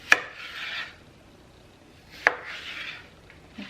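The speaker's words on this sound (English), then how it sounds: "Just continue cutting in halves." A knife cuts a peeled cucumber into halves on a cutting board. Two sharp, close knife-on-board knocks land about two seconds apart, each followed by a brief scraping swish, with quiet between and no talk.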